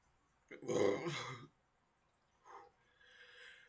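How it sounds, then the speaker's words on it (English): A short, throaty burp rises abruptly and fades, followed after a pause by a smaller guttural sound and faint breathy noise, close and quiet. "I hate when I fucking burp."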